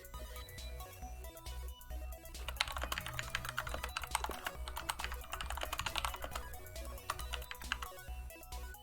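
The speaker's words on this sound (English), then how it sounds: "Why do I hear angry typing?" Fast, fairly loud computer-keyboard typing runs nonstop for the whole stretch, with dense clicking keystrokes over a low steady hum.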